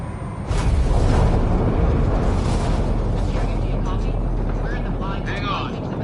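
A spacecraft makes atmospheric entry in a PS4 video game, a loud, steady roaring rumble of buffeting air and engine noise with a few faint electronic beeps and tones layered on top.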